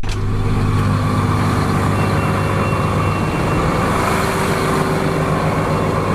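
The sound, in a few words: large tractor diesel engine idling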